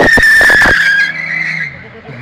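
A 545 PS car doing a burnout, its tires letting out a loud, sustained squeal that starts with harsh bursts, then trails off into a fading screech.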